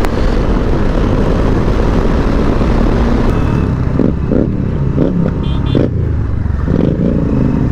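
Bajaj Dominar motorcycle being ridden, a steady loud engine drone with rushing wind noise throughout and a brief voice near the end.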